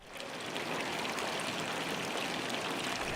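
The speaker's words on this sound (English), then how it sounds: "The historical fountains add extra character to the Old Town." Water from a historic fountain in the Old Town of Bern splashes and gurgles continuously, a dense, steady rushing sound close by, alone, with no voices.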